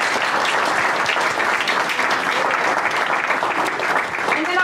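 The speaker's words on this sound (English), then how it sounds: "So if we could give them a round of applause." An audience at a Batavia public school meeting bursts into sustained, dense applause for a school team that brought home a state trophy, the clapping steady and loud throughout.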